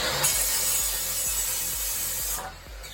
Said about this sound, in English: in a minute I'm gonna use the chop saw again